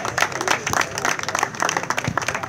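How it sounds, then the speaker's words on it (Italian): An audience applauding at a futsal tournament event in Montecassiano, dense, close clapping sustained throughout, with a voice faintly audible beneath it. "un applauso,"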